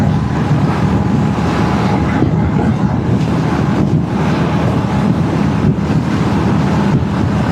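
A motorcycle ridden at over 100 km/h on a solo highway run, producing a loud, steady roar of wind buffeting the microphone over the engine, continuous and unbroken throughout.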